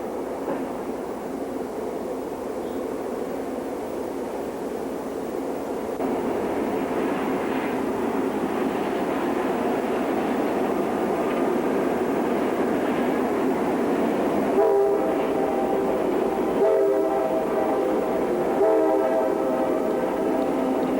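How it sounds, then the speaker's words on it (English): Three CSX SD50 diesel locomotives (Seaboard and C&O units) haul a northbound coal train past a helper station, a steady loud engine rumble with several horn blasts sounding near the end. "Three SD50s, Seaboard 8549, C&O 8553, and Seaboard 8533 power a northbound coal train."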